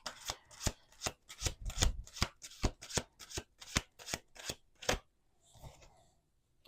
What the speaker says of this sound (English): let me finish shuffling